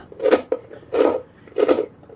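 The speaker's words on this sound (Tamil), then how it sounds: "குட்டியாக பொடி பொடியாக நறுக்கிட்டுங்க." Three distinct crisp cuts of pirandai, veld grape, being chopped finely with a knife, evenly spaced, close and isolated with quiet in between.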